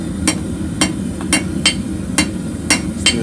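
Blacksmith hammering a short taper on an anvil: sharp metallic strikes at a steady, unhurried pace of roughly two per second, close and clear over a low background rumble.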